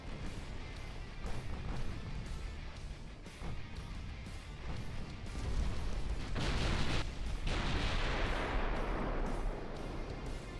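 Naval gunfire from battleship secondary batteries in a naval warfare game, engaging heavy cruisers: a dense, continuous rumble of repeated booming shots with louder blasts and rushing crashes later, no talking.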